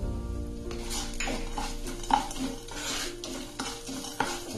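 Garlic fries in a pan of oil with asafoetida for a spinach and fenugreek leaf chutney, giving a steady close sizzle broken by a few sharp clinks of a spoon stirring against the pan.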